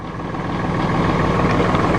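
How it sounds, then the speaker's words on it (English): A Massey Ferguson 2605H two-wheel-drive utility tractor's engine idles steadily at close range, producing a continuous low, even rumble with no speech. "Listen to that thing purr."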